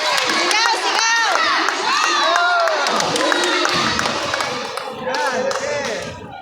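A crowd at a youth badminton tournament cheers and shouts, with many children's high voices yelling together over scattered clapping. The lively noise stays loud throughout and eases slightly near the end.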